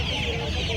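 Cheeti chickens cluck briefly at a poultry market in Mydukuru, a quick, close burst over a dense bed of crowd and market noise.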